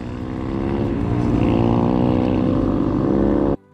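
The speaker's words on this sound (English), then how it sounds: "Pretty awesome to see this motorcycle group come through." A large group of roughly 40 motorcycles rumbles past on a desert road, engines blending into a loud, steady droning roar that holds, then cuts off abruptly.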